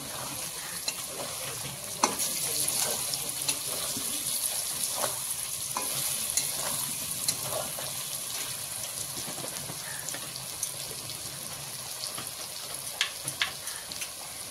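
Egg curry masala spiced with Kashmiri red chili powder fries in a pan with a continuous crackling sizzle, punctuated by sharp spatula scrapes and stirring clicks throughout.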